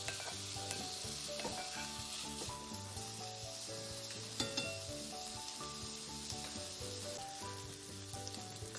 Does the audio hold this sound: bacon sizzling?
yes